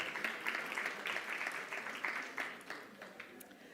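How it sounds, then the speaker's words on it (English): Audience at a panel discussion on catalytic capital applauding, a steady patter of fairly faint clapping from a modest crowd that rises and falls in small swells. "Please take your seats on a round of applause"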